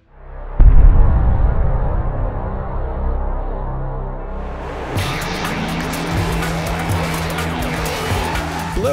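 Cars race in the video game Blur: a sudden loud engine roar kicks in, then tires squeal and skid over a steady, close engine drone as the race goes on.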